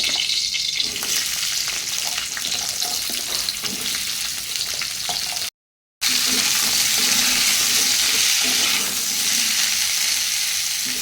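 Oil sizzles steadily in a pan while kutri (ivy gourd) is being fried for a Bengali curry, a loud continuous hiss with a brief dropout midway before the sizzle resumes.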